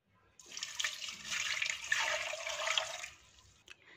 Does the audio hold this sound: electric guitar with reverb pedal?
no